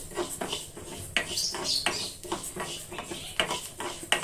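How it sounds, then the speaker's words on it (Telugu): About four spoonfuls of fenugreek seeds are dry-roasted in a pan and stirred with a spoon, giving faint, irregular metallic clinks and scrapes close by. "ఈ స్పూన్ తోటి 4 స్పూన్లు మెంతులు వేసుకొని ఫస్ట్ మెంతులు ఫ్రై చేసుకుందాం"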